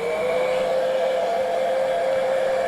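A hair dryer blows a steady, even whir with a faint tonal hum, running continuously close by to dry fresh paint on an artwork.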